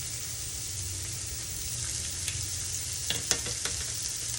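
Shrimp frying in a pan, a steady bright sizzle throughout with a few small pops and stirring clicks near the end, close and without talk.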